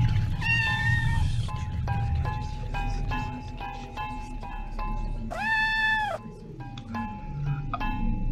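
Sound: cat meowing in a video game

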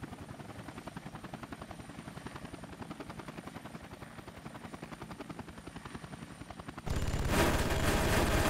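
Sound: Cobra attack helicopter flying in the video game Air Conflicts: Vietnam

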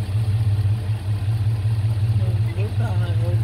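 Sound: car engine running

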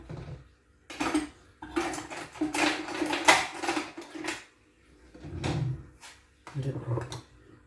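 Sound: opening a cooking pot while making palputtu

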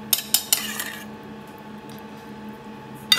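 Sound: spooning fricassee onto a plate with cutlery

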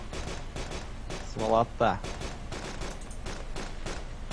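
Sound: gunfire in the video game DayZ

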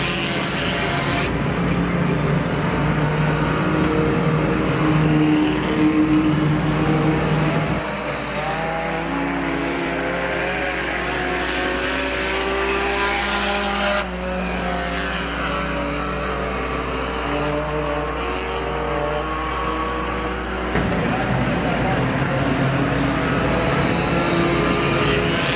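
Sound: IMCA sport compact race cars racing at Perris Auto Speedway

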